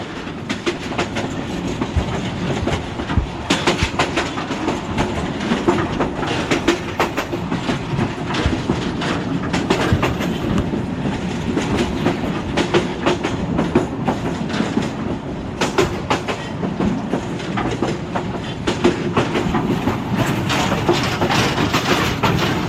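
A Bangladeshi train, the Tista, rumbles steadily along the tracks past Sreepur station with continuous clattering of wheels over rail joints, loud and close throughout.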